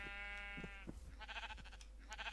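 Sheep bleating in the Minecraft video game, one drawn-out wavering bleat followed by softer shuffling and rustling sounds, faint and alone without talking.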